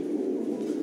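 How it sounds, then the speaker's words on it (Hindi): Hungarian breed male pigeon kept at a pigeon farm in Gujarat giving a low, continuous throaty coo, close and fairly loud for under a second with no talking. "आठ कली joint Hungarian mail for sale confirm mail है"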